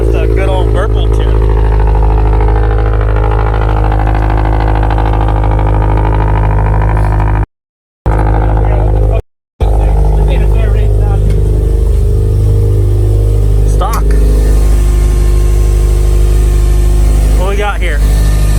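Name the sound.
car engine revving with burble tune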